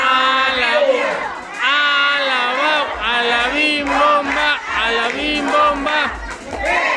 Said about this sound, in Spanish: queremos escuchar otra porra, para que se vea que estamos felices y contentos